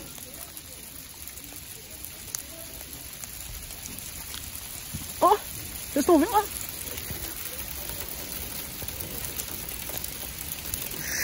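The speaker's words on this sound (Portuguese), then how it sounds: "Chuva de granizo." Hail pelts down outdoors in a steady, dense patter of icy pellets, with a few sharper impacts near the middle, while people talk over it.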